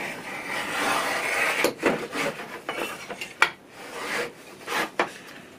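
A Saker chamfer plane shaves the edge of a piece of MDF in a few quiet, scraping strokes with irregular rasping bursts, close up and with no talking.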